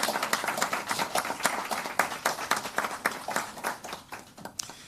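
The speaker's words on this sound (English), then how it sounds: "I would ask you to join me in giving a round of applause for this support from Canada" A room of colleagues applauds at a UNICEF launch event for Canada's CanGIVE initiative, with irregular, fairly close hand claps that swell and fade unevenly over about five seconds, with no talk.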